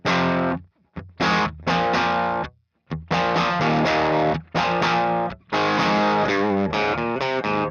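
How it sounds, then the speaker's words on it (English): Electric guitar through a StewMac Ghost Drive overdrive pedal used as a clean boost, slightly driven tone, plays choppy chords and riffs, stopping and starting in short bursts with brief silences between. "One of my favorite ways to use an overdrive is just as a clean boost."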